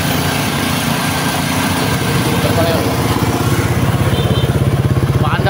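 Honda Click 125 scooter engine running steadily with a loud, rapid pulsing idle, a noisy generator nearby, and someone speaking briefly over it.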